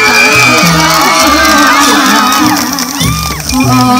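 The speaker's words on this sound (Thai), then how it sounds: "ขอเสียงปรบมือเป็นกำล" Audience at a Thai shrine sign-unveiling ceremony cheering and shouting loudly, with crowd whoops and voices over music, close and dense throughout.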